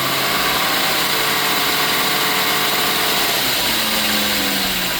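A 2002 Northstar car engine with a misfire hums steadily, its pitch climbing slightly as it is brought up from idle, loud and close throughout.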